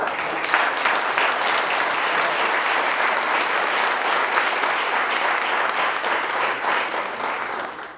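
Warm applause from the audience at a trade union forum on workers' rights and public services as a speaker is sent off, full, even clapping from many people that eases slightly near the end.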